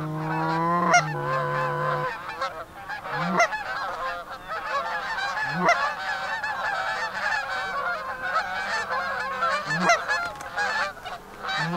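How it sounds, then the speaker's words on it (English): A large flock of geese honking loudly and continuously during early goose hunting season, many overlapping calls near and far with no talking. "You see all those geese coming?"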